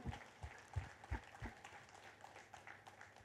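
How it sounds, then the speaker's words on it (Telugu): A crowd at a spiritual gathering of speeches claps in faint, scattered bursts, with a few distinct hand claps early and softer applause trailing off. "పిఎంసీకి ఒకసారి గట్టి క్లాప్స్ చేసుకుందాం"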